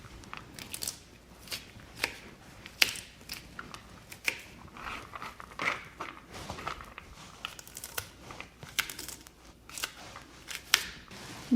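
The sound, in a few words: chopping matchstick carrots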